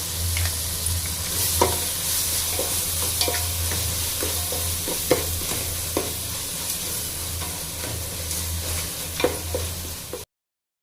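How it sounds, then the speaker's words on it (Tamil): Ginger garlic paste sizzles and fries in a pan with tomatoes for prawn biryani, steady crackling broken by occasional scrapes and stirs of a spoon, close and continuous. "இஞ்சி பூண்டு பேஸ்ட் வதங்கிச்சிங்க"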